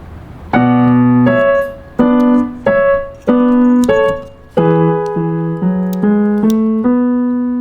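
Piano plays the final part of a theme from La La Land, a loud, close run of sustained chords and melody notes moving stepwise, some held and some quickly restruck, with no voices.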